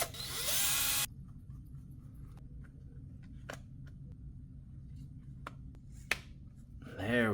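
An electric screwdriver briefly whirs, driving screws into a metal mount on an Arrma Grom RC car, two short bursts at the start and end with small clicks and handling noises between.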